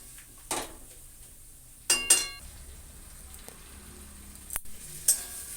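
Spices with salt and turmeric being fried in a pan for a fish curry: a faint low sizzle broken by a few sharp clinks and scrapes of stirring, several spaced knocks of utensil on pan.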